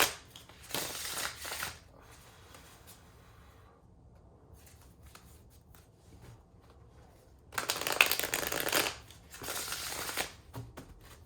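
A tarot deck being shuffled, two bursts of crisp riffling cards separated by a quiet stretch of faint handling, close and fairly soft.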